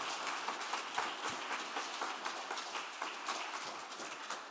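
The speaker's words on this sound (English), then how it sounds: "Round of applause." An audience applauds after a pitch at a cleantech scale-up and investment challenge finale: continuous, dense clapping from a room full of people, faint and somewhat distant, steady for several seconds with no voices on top.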